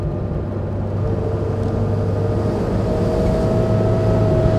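The eight-cylinder engine of a 1936 Mercedes 500K Spezialroadster runs steadily while driving, a close, loud, even drone with a deep hum that grows slightly stronger over time, with no talk.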